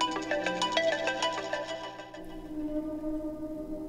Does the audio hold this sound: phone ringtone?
yes